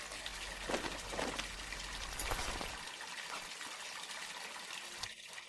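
Shower water runs steadily as a broad, hissing spray. It is fairly loud and close, the tone thins partway through with a few splashes, and nobody talks.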